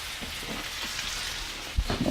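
Lamb meat frying in a pan gives a steady, moderately loud sizzle and crackle throughout, with a sharper pop near the end.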